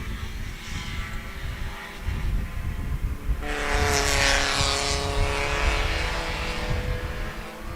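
Spec Miata race cars at Sebring roar past in a close pack, engines droning loud and steady, then swelling sharply about halfway through as the field sweeps by near the microphone, with no speech.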